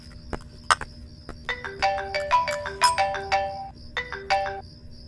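A telephone ringtone plays a bright, repeating electronic melody of quick chiming notes, loud and close, in two phrases with a short gap between them, over a low background hum.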